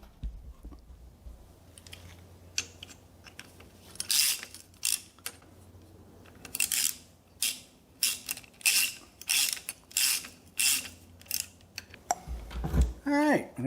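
Ratchet tightening bolts on a Ford FE 390 engine during a build, heard as a series of short, close mechanical clicking bursts that repeat in quick rhythmic runs, with brief talk at the end.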